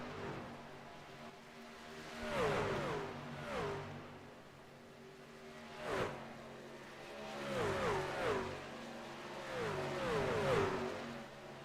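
Race trucks on the oval at Windy City scream past one after another, each engine's whine rising and falling as it nears and fades, with several passes spread through the stretch.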